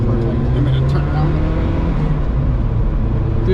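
A Saab 900 Turbo engine drones loudly from inside the cabin as the car pulls hard, with a steady low rumble and road noise that never lets up.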